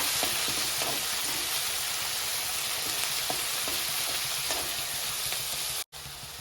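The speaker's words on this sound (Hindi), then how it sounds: "प्याज इसको सुनहरा होने तक भून लीजिए।" Onions sizzle and crackle in a hot pan, frying until golden for baingan bharta, with occasional soft scrapes of stirring, a constant close hiss and no voices.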